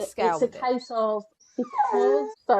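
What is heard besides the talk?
dog whimpering and yipping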